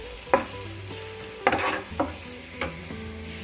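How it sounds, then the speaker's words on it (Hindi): Ground spices roasting on a low flame in a pan for paneer bhurji, a soft continuous sizzle broken by four or five sharp scraping stirs of a spoon against the pan. "गैस का फ्लेम मैंने बिल्कुल कम कर दिया है और मसालों को हम अच्छे से भून लेंगे।"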